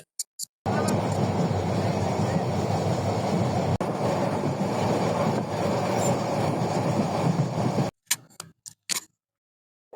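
A train on the Chittagong to Cox's Bazar line rumbles slowly along new rails with steady rhythmic clatter for several seconds, then cuts off abruptly, followed by a few brief knocks.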